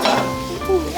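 Onions frying in a pan, a brief steady sizzle close up with a light stirring scrape.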